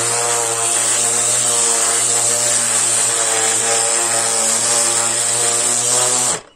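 A Parkside PAEXS 20-Li A cordless random orbital sander running at speed 4 gives a steady, loud motor whine with a constant buzzing hum. It runs alone and evenly, then cuts off abruptly at the very end.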